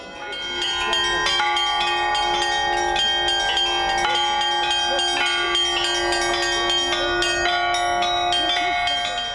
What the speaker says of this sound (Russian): в улицу наполняя перезвон.